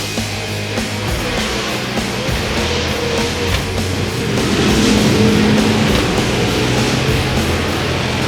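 Pro 2 off-road race cars launch together at the start of a race at ERX Motor Park, a loud roaring wall of engines building as the pack pulls away, heard from trackside.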